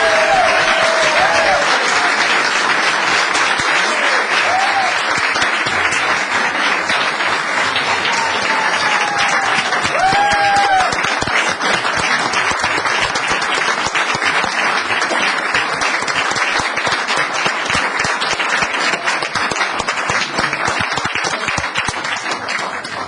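A town council meeting audience applauds honorees with steady, full clapping from many hands, continuous and fairly loud for over twenty seconds, unbroken by speech.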